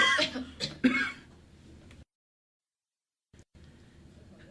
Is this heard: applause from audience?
no